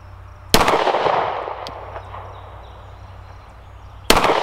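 A 10mm double-stack Rock Island Ultra pistol fires at an outdoor range, two sharp, loud reports about three and a half seconds apart, each trailing off into a long fading echo with no talk.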